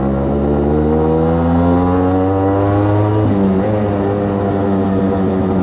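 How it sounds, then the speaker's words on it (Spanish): A Suzuki AX 100 two-stroke motorcycle engine revving up close, with a loud, buzzy drone whose pitch climbs steadily, then drops briefly at a gear shift and picks up again. "qué tan fácil llega a máxima velocidad esta moto"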